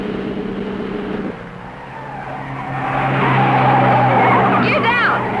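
A 1955 sports car races on a hay-bale-lined track, its engine droning loud and close before tires skid and squeal toward the end, with people talking over it.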